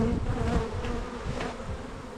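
Bees buzz in a dense, close swarm as hive comb is cleaned out of a messy hive box, a continuous agitated hum with no talking.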